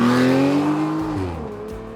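A 2023 Genesis GV70 Sport Prestige, engine revving briefly with a rising then falling tonal drone, close and loud, easing off in level over two seconds with no talk.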